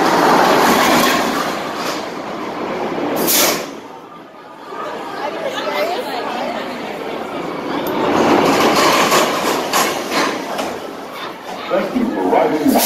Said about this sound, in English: The train is rapidly approaching the station.